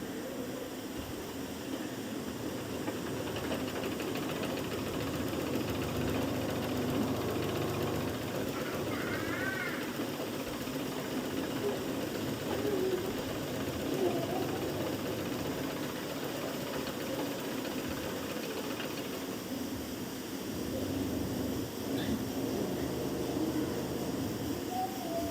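A sewing machine stitches the hem of a lungi with a steady low mechanical hum and faint rattle, running continuously for a long stretch, muffled and fairly quiet, with no talking.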